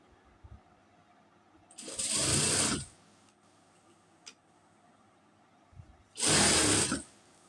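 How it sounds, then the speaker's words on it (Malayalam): A sewing machine stitches a nighty in two short, loud bursts of about a second each, with quiet pauses and faint handling clicks between them. "ഇതിലൂടെ സ്റ്റിച്ച് ചെയ്ത് വരിക"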